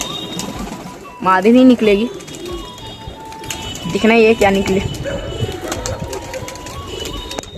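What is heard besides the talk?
pigeons cooing in a rooftop loft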